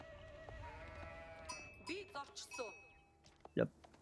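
Sheep in Age of Empires IV bleat in short wavering calls, a few scattered among game chimes and clicks, mixed with someone talking.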